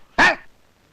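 A single short dog bark, fairly close, followed by near silence.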